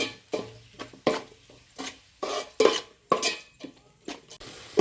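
Ginger garlic paste and tomatoes are sautéed in a pan for fish biriyani, with a metal spoon scraping and knocking against the pan in repeated close strokes over a soft sizzle.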